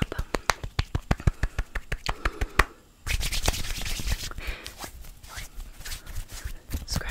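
Close-up ASMR hand sounds: a quick run of sharp, rhythmic hand claps, then a steady swishing rub of palms, all near and intimate with no voices.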